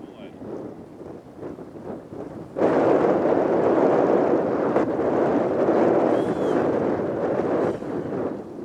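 A 70mm electric ducted fan RC jet, an H-King Flycat, whooshes with a broad airy roar that jumps louder partway through and holds steady, with wind buffeting the microphone.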